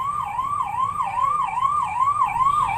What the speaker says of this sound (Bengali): এখানে অ্যাম্বুলেন্সটা যাচ্ছিল, তো সব গাড়িগুলোকে ওই জন্য পাস করে দিচ্ছিল